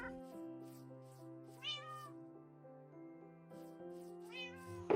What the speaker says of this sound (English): A few cats spawned around the village while I was collecting sand